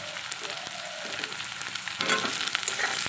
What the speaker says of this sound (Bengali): এবার আমি বেগুনগুলোও দিয়ে দেবো